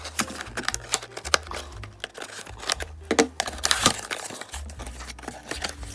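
Collectible toy being unboxed, with crinkling packaging, tearing and handling clicks in irregular close bursts, no speech.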